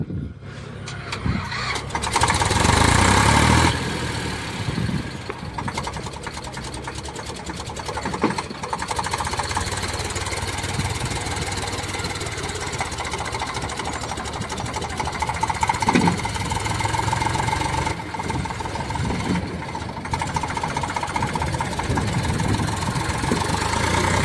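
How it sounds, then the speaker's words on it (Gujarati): A tractor engine idles with a steady rattling chug, continuous and fairly close, its tone shifting slightly now and then. "તો કાને ભાઈ ટ્રેક્ટર બહાર કાઢી લીધું."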